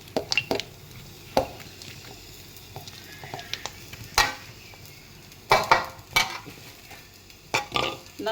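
A spoon scrapes and clinks as fried chana dal and peanuts are stirred into puffed rice. Irregular bursts of rustling and metallic taps come over a quiet background.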